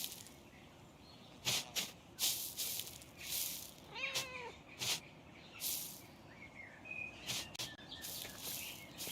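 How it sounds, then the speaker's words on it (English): A cat meows a few times in the medieval murder mystery game Pentiment, short separate calls over a soft ambient game soundscape with faint chirps, moderately close and fairly quiet. "Definitely pet the cat."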